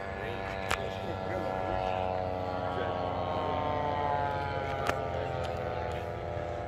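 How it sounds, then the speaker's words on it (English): A group of airliner aircraft flying over an airshow, a continuous droning engine hum with slowly shifting tones, steady and moderately distant, with a couple of brief clicks. "It's a gaggle of airliners."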